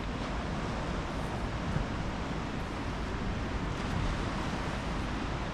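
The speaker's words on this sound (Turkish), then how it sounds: "dalgaların sesi buraya kadar geliyor." A steady, heavy roar of surf washes continuously, like waves breaking at a distance, with wind noise and no pauses or voices, heard at night in winter at Şarköy.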